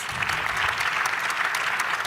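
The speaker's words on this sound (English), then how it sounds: "Please help me to give an applause to the panelists." Dense, loud applause from an audience at a high-level dialogue session, honoring panelists with a continuous roar of many clapping hands that holds steady from start to finish.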